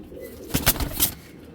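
A pair of pigeons gives a brief burst of close cooing: a couple of throaty pulses with a fluttery rustle, over quiet background noise.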